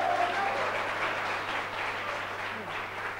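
An audience of children applauds steadily at a lecture on Islam, a dense, continuous wash of clapping that holds level throughout with no speech over it.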